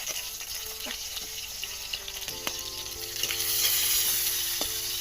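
Garlic and onion fry in a hot pan with a steady sizzle and crackle. The sizzle swells louder partway through, and a few soft clinks and scrapes sit under it.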